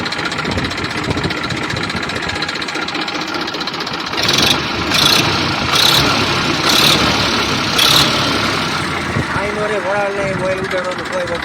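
A Massey 245 tractor engine idles steadily with a low, continuous rumble, while a few sharp clicks sound midway and a person speaks nearby over the engine.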